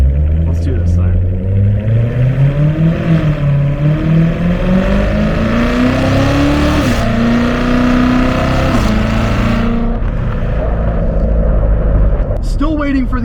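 A manual C7 Corvette Z06 engine warming up, its deep rumbling idle rising and falling through a series of moderate revs, loud and close, with a person talking over it.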